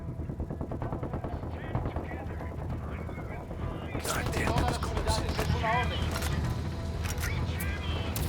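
Bursts of automatic gunfire in the video game Ghost Recon Wildlands, rattling over a steady background rumble and growing louder and denser midway, with talking mixed in.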